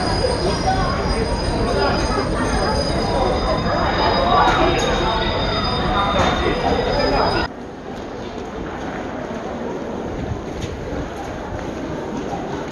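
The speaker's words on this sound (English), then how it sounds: "And now to the platforms of the central station, and let's take a look at the trains here." A train rumbles and squeals nearby on a platform of Kharkiv central station in Ukraine, a loud, continuous mechanical roar that suddenly drops to a quieter hum of station ambience partway through.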